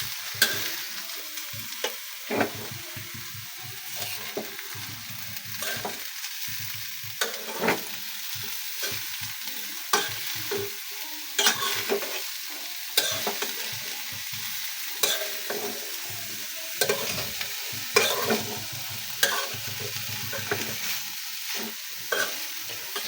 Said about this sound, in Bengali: এরপরে একটু নেড়ে ছেড়ে দিই